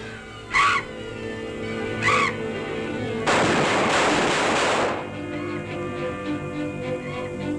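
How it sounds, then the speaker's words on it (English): Gunshots in a 1940 horror film scene aimed at a bat: two sharp, separate shots, then a longer burst of noisy blast, with faint background sound between. "Quick, shoot it!"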